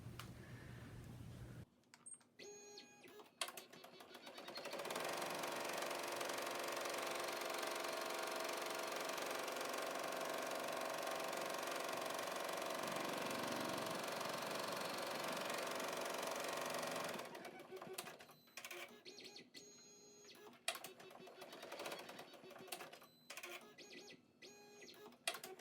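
An embroidery machine sews down a hanging pocket held in the hoop, a steady loud mechanical whir with rapid needle clatter running for about twelve seconds, framed by quieter clicks and handling noises before and after.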